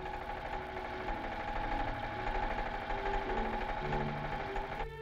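A steady, rumbling engine runs continuously at a constant pace, with a rough, knocking mechanical texture and no voices.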